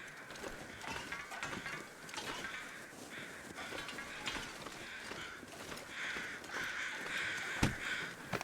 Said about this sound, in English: Crows, I get it.